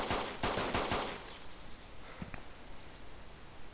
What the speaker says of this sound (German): Einer schießt auf mich.